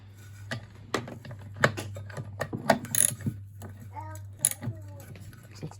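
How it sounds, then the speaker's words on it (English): A ratchet socket wrench, 13 mm socket, works on a corroded motor bearing nut, giving a series of sharp close clicks and ratcheting bursts over a steady low hum, with a person speaking intermittently. "Let's try it with a socket."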